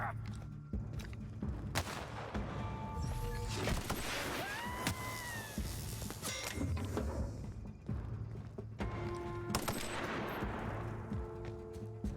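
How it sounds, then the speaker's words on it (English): Gunfire in The Outer Worlds, a pistol firing at three enemies: a dense run of sharp shots and impacts over busy game sound effects and music, steady and loud throughout with no talking. "I should start by blasting all three of them in the face with my pistol"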